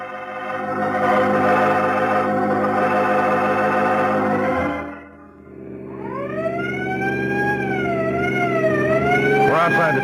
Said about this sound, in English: You can drop the siren.